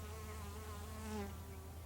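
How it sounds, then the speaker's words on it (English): A dense, steady buzzing of many bees close by, humming continuously without pause. "you can actually hear the sound of the bees as you approach them"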